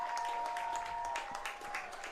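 Rugby crowd at a men's club championship game, Life University against NYAC, applauding after a try, a steady spread of clapping with a faint sustained tone running through and scattered louder claps.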